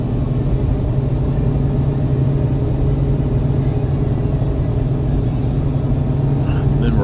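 Heavy, constant engine rumble and road drone from inside a truck moving through busy highway traffic near an on-ramp, loud and steady throughout with no distinct passing vehicles.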